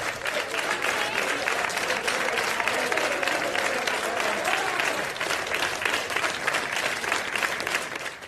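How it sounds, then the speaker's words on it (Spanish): Healthcare workers at Ramón y Cajal hospital applaud together, a dense, steady wash of many hands clapping that stays loud and continuous throughout, with no clear voices standing out. "O sanitarios que aplauden en el Ramón y Cajal también."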